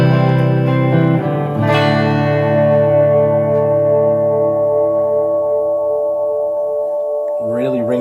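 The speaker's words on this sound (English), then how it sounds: "Really rings out that reverb in your tone, which I really like." An electric guitar chord rings out through a Blackstar Amped 1 amp with its reverb held on, re-struck once and then sustaining in a long, smooth, shimmering wash that slowly decays, with a brief new note near the end.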